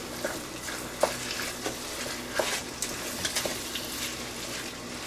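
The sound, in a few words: stirring cottage pie beef filling sizzling in pan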